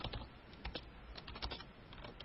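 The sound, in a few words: someone hammering away on a computer keyboard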